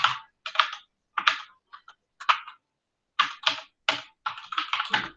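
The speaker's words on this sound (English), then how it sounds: "So I'll type get remote" Typing on a computer keyboard while entering a Git command, close and fairly quiet bursts of key clicks in short irregular clusters separated by silent pauses.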